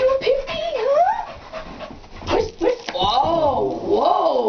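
A female pit bull puppy pants and whimpers close by in uneven bursts. A person's high, sing-song voice runs over and between the dog sounds.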